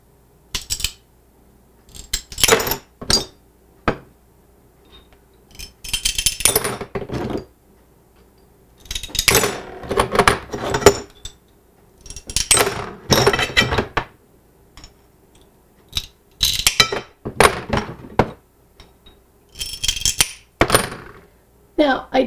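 Tile pieces nipped with hand nippers for a mosaic stepping stone, giving sharp snaps and clinks in separate bursts with quiet gaps between them, close and fairly loud.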